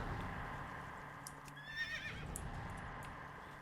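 A horse in World of Warcraft gives a faint, brief neigh midway through, with soft hoof clops and a low game ambience beneath it and no voices.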